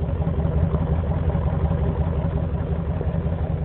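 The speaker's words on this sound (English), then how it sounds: "It actually made my exhaust a little bit lower and grumblier sounding." A 1998 Chevrolet Suburban with a modified, shortened exhaust idles with a low, steady, rumbling burble, close and continuous with no talking over it.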